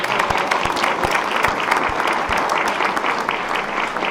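Steady applause from the audience at an Orlando city council meeting, a dense wash of many hands clapping at once for several seconds, with a few sharper claps standing out nearby.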